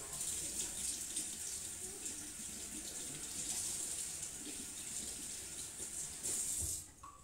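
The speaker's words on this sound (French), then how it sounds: "Mon saumon, vous voyez, je vais le rincer, je vais vous montrer." Salmon fillet rinsed under a kitchen tap, a steady close hiss of running water pouring into a sink throughout, cutting off sharply near the end.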